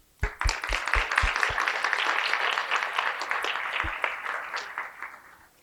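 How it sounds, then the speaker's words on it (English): Graduates at a commencement ceremony break into applause for one another, a dense, steady wash of many hands clapping that swells quickly, holds for several seconds, then thins and fades out. "So let us take a moment to applaud one another."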